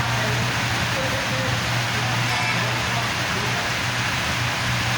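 Heavy rain pours over Gulshan, Dhaka, heard from a tenth-floor height amid gusty wind, a dense continuous hiss with a low steady hum beneath, unbroken throughout.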